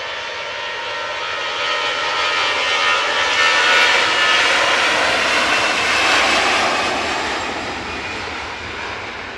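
An Embraer jet passes at Manchester Airport, its engine roar swelling to a loud peak mid-clip and then easing away under a clear sky, with no voices.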